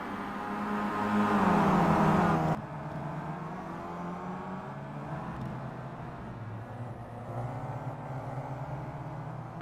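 Racing cars from the 2011 WTCC touring car series in the Simraceway video game drone continuously, a loud rising engine whine that cuts off sharply, then a steadier layered engine hum with gear-change dips.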